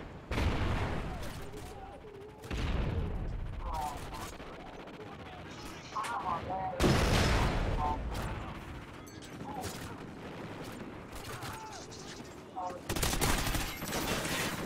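Gunfire in Call of Duty Ghosts, with repeated loud bursts and single shots cracking at irregular intervals alongside a few booming impacts, under intermittent voices.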